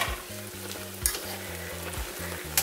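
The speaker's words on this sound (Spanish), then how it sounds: "Ya está hirviendo nuevamente" Chicken in sweet and sour sauce bubbles and sizzles in a pan, with a steady simmering crackle and a few sharp ticks of stirring, close and alone.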